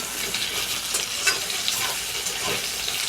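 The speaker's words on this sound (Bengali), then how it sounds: "এবার আমি বেগুন ভাজা তেলের মধ্যে দিয়ে দেব" Eggplant slices frying in hot oil in a pan for a Bengali potato-eggplant fish curry, a steady close sizzle with light stirring clatter, no talk.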